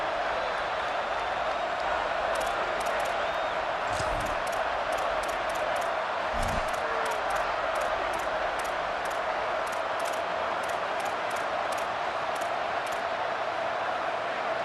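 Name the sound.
stadium crowd cheering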